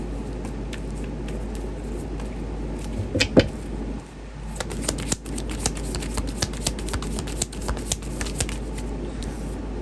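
Deck of angel cards being shuffled by hand in a tarot-style reading, crisp riffling and flicking of card stock in a dense rapid flutter after a few louder knocks, close and clear over a low steady hum.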